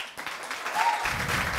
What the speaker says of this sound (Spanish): pido que le den un muy fuerte aplauso al invitado de esta noche